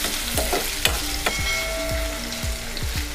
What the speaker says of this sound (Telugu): ఈ కొత్తిమీర బీరకాయ ముక్కలు మెత్తబడే వరకు వేయించుకుందాం.